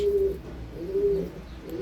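Soft, low pigeon coos repeat in a slow rhythm against a murmuring background, several birds calling close by inside a coop.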